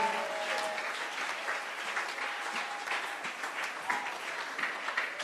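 A church congregation applauds in worship, a sustained wash of many hands clapping, even and moderately loud throughout with faint voices.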